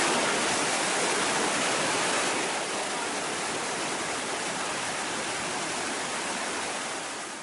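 Flood water rushes through the opened gates of Pandoh Dam in Himachal Pradesh, a loud, dense, continuous roar that stays steady throughout with no voices.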